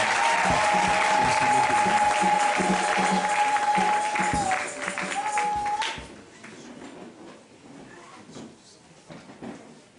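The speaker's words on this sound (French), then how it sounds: "Acclamons le Seigneur ce soir." Church congregation applauding and cheering at an evening Christian service, a dense loud wash of clapping with a held tone in the first six seconds, then thinning to scattered claps and murmuring voices.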